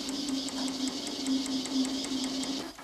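An Eckold forming machine stretches an aluminium section into an S-profile, a rapid, regular mechanical chatter of repeated strokes with a steady hum beneath, fairly faint and even, ending in a soft clunk.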